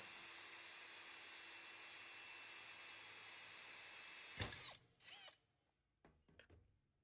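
A power drill whines steadily while boring holes in a stainless steel cup, then stops abruptly, followed by a few short scraping and handling clatters.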